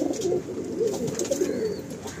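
Soft, low cooing from a pigeon with a leg problem, unable to stand properly on one leg, repeats in short throaty bursts, fairly faint, with some light background noise.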